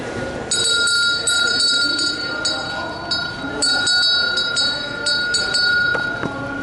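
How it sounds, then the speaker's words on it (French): A ringing bell sounds during a game for visually impaired players, with a sustained, bright metallic tone repeated several times over a noisy, echoing indoor background. "doit retrouver le bruit de la sonnette le plus rapidement possible"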